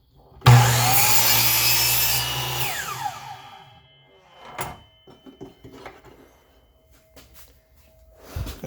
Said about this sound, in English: so the chop saw is going to come down